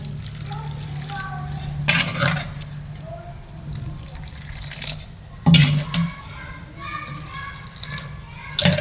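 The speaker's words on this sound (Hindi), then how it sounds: "अब हम नेक्स्ट बर्तन में दूध डालेंगे।" Milk is poured from one steel vessel into another while making halwai-style set curd. A steady liquid stream splashes and rattles against the metal, with loud clanks of the vessels and someone talking over it.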